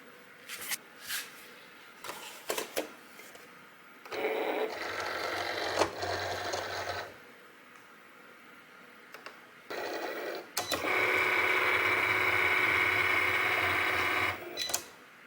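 A Cricut cutting machine drawing with a stylus on a card, heard as bursts of motorized whirring and carriage movement, separated by pauses and scattered clicks, fairly close.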